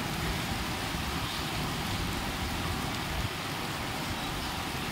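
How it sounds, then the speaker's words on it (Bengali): Steady rain falls on a street in the early afternoon, with a rickshaw passing and traffic around. The dense, even hiss holds constant throughout, with a low rumble of road noise underneath and no voices. "বৃষ্টি হচ্ছে"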